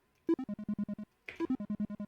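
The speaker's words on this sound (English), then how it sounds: "Like a repeating beeping noise," Two runs of short, evenly spaced electronic Pico-8 game beeps, each burst opening on a slightly higher tone before settling into a steady mellow pitch; moderately loud, no voices.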